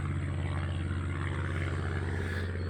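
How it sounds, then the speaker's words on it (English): Propeller airplane droning somewhere overhead in cloud cover, a steady, continuous low engine hum heard from a distance with no speech, level and unchanging throughout. "Got an airplane up there flying in the clouds somewhere"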